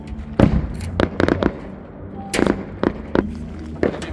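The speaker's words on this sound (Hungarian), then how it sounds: "aztán már rögtön tűzijátékot szervez" Fireworks explode in a rapid, irregular series of sharp bangs and cracks, some in quick clusters, fairly close and loud against a faint background murmur.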